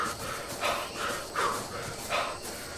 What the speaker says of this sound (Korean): 거친 숨소리, 부러운 숨소리